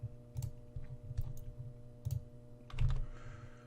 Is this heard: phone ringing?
no